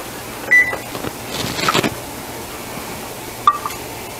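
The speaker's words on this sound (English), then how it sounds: "So let's go into the oven. And I'm going to set my timer for 20 minutes." An oven timer being set while enchiladas bake: a couple of short electronic beeps, with a brief rattle of handling between them, over a steady low hum.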